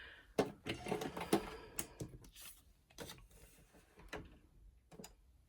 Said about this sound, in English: So I'm going to sew those quickly